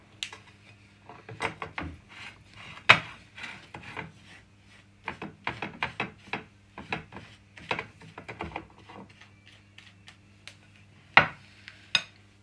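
Sugar, salt and flour for chocolate sauce being stirred together in a bowl: irregular scraping and clinking of a spoon against the dish, quiet and close, with sharper taps now and then.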